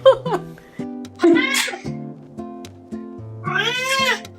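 A cat gives a couple of short, sharp sneezes among brief meow-like vocal sounds, close and fairly loud, with pauses between them.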